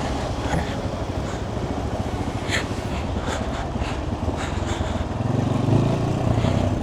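Suzuki GS150 motorcycle climbing a muddy off-road track in Kashmir, its engine droning steadily and close throughout, growing slightly louder near the end, with brief voices mixed in.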